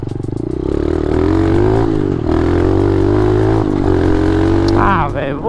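A mini motorcycle runs along a dirt road, its small engine droning loud and close with a wavering pitch as it revs, amid rattling and clatter from the rough surface.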